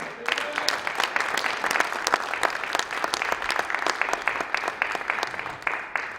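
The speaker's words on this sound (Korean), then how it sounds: "가장 큰 박수로 환영합니다" Audience applause welcoming a preacher to the pulpit at a church founding-assembly worship service, steady dense clapping with sharp individual claps throughout, filling the room evenly and fairly loud from start to finish.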